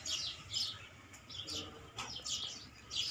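Birds chirp near a nest in a garden, short bright tweets repeating in bursts over a quiet low background, fairly faint and without speech.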